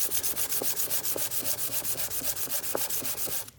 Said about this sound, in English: the easiest thing to do is to have a piece of sandpaper